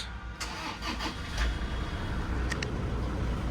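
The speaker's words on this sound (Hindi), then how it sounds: "जेन्युइनिटी चेक कराने के लिए इंजन नॉइस आपको सुना देता हूँ।" A 2012 Toyota Innova's engine starts and settles into a steady idle, a continuous low rumble heard up close with a few faint clicks.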